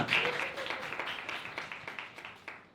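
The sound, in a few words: audience applause for contributors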